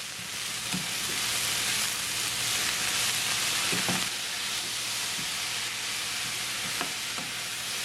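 Chopped spinach sizzling in a pan with onions for keerai vadai, a steady loud frying hiss broken by a few soft scrapes and knocks as the mixture is stirred.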